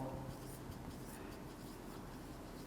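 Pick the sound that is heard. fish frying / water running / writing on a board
writing on a board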